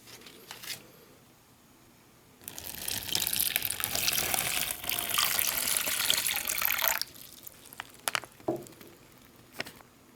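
Water pours in a steady gush into an MRE hot beverage bag for about four seconds, a faint trickle at the start and a few small drips and taps after the flow stops.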